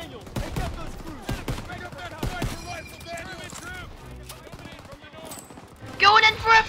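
Rapid bursts of rifle and machine-gun fire crackle in a Call of Duty WW2 battle, sharp shots clustered early and scattered later, with voices calling out between volleys and a louder burst of fire at the end.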